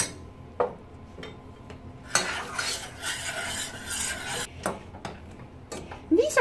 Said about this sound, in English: we're going to take a potato masher and we're going to mash up our beans